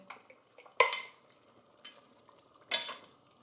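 Tomatoes being stirred in a hot pan, with two sharp scraping clanks of a utensil against the pan and a soft sizzle between them, close and fairly quiet, no talking.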